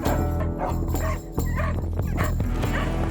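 Farm dogs barking on a windswept Patagonian estancia where gauchos work sheep, several close yips and bow-wows in a quick, irregular burst over a busy, loud background.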